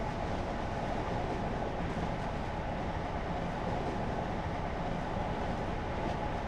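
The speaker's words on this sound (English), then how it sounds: "A fuel train on fire." A burning fuel train rolls along in Train Simulator, a continuous, even, fairly loud rumble of rail noise and wheels that holds steady throughout without pauses.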